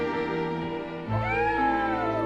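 A cat meows in the tactical role-playing game Triangle Strategy, a single clear mew with a rising then falling tone heard near and alone over steady in-game background music.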